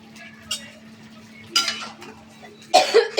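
Boiled, peeled, mashed potatoes drop into a pan, landing with a few soft scraping and clinking bursts from a utensil against the metal, spaced out over a low steady hum.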